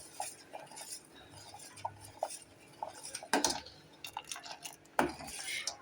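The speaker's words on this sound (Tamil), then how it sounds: "அதனால் கொஞ்சம் கைவிடாமல் கிளறிட்டே இருக்கணும், இல்லாட்டி அடி பிடிக்க ஆரம்பிச்சிடும்" A spoon stirs cottonseed milk (paruthi paal) in a pot, making faint, close, rhythmic scrapes and light clinks against the metal, with a few louder knocks.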